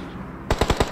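Rapid automatic gunfire in a Free Fire esports scrim, about six loud, close shots in quick succession after a short lull.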